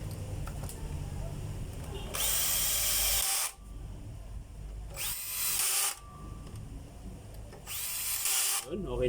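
A power drill drives screws into a DeWalt D28720 14-inch chop saw in three loud, close bursts of whirring with pauses between them, and there is quiet background noise in the gaps.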